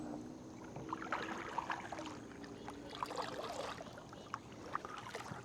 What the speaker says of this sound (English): let's paddle about around here a little bit